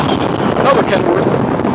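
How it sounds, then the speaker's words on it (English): An International semi truck passes on the I-10 highway, heard as a loud, steady broadband roar of engine, tires and wind rushing past close by for the whole moment. "Oh no, that's not a Kenworth, that's an International."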